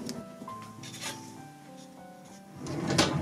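A wooden drawer slides open with a soft rubbing scrape and a few light knocks, up close in a quiet room with faint background tones, ending in a louder rustle as items are lifted out.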